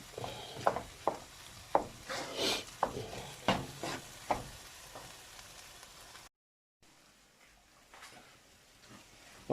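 Paella ingredients fry in a pan with a soft continuous sizzle while a spoon scrapes and stirs in a series of distinct strokes, then a brief gap and quieter frying alone.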